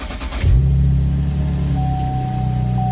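A car engine cranks and catches after a short starter whir, then settles into a steady, loud idle hum close by, with no one talking.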